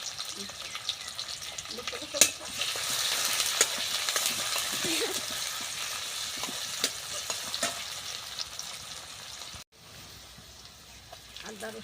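Onions frying in mustard oil in a wok over a clay stove, a steady close hiss of sizzling with occasional stirring scrapes throughout, briefly dipping near the end.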